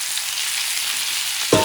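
Chicken pieces for Puerto Rican chicken stew sear in a hot pan with a steady, close sizzle that jumps to a sharper, louder hiss near the end.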